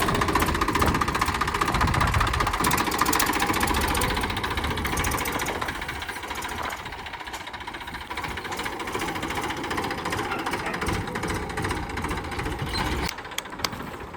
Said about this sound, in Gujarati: ચલીએ ચલાતે હે હમ ટ્રેક્ટર